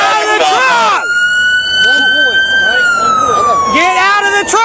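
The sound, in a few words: police car sirens during chase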